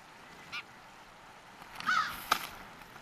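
Crows caw in a few short, sharp calls outdoors in the wild, one brief call early and a louder cluster near the end over a quiet background.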